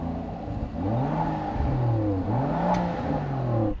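A Rolls-Royce Cullinan V12 revs up and down in a steady, loud sweep, its engine note rising and falling several times, close by with no talking.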